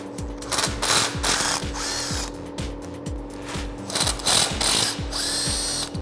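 A hand ratchet with a 1/2-inch socket loosening shock absorber bolts, with rapid repeated clicking bursts of the pawl in an even rhythm, close up, with no talking.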